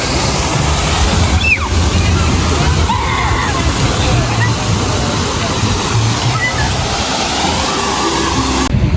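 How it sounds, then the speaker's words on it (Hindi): A Berlin fountain sprays and splashes loudly and continuously on a hot day, a close, rushing wash of falling water with faint crowd babble beneath it. "यहाँ पानी आ रहा है मेरे ऊपर"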